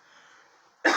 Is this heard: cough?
yes